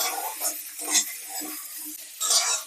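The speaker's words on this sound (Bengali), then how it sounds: "এইটা একটু নাড়াচাড়া করে নেব।" Chopped onions stirred into hot oil in a pan, with a spoon scraping in a few distinct strokes over a soft sizzle and occasional metallic clinks.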